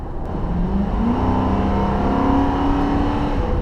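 A 2004 Ford Police Interceptor accelerates hard from 50 mph, its engine note climbing steadily in pitch as it pulls, loud and continuous with road noise underneath.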